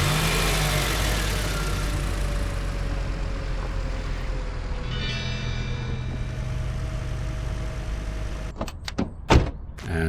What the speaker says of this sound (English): Okay, so move the car.